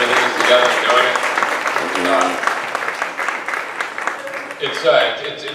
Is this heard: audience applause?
yes